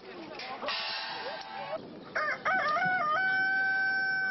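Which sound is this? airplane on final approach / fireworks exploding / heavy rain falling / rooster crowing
rooster crowing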